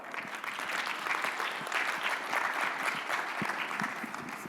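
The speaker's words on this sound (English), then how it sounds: "let's just give her applause" A keynote audience claps together in a steady, continuous round of applause. It is fairly soft and distant and holds an even level throughout.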